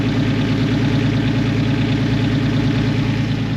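A turbocharged BMW E46 idles steadily and loudly, a constant low engine drone with a persistent unwanted background noise droning underneath, uninterrupted and without voices.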